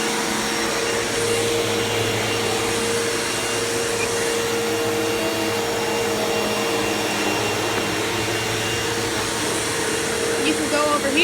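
A Hoover Elite Rewind Deluxe upright vacuum cleaner runs steadily and loudly throughout, its constant motor whine and suction roar unbroken as it works over a floor.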